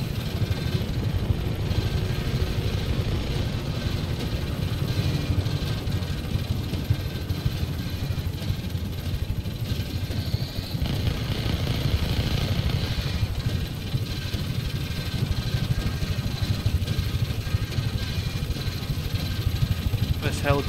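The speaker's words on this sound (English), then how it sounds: "This helicopter really isn't sounding healthy." Helicopter engine in the Just Cause 3 video game, in unhealthy condition, a steady loud low rumble and drone running continuously with a person talking over it.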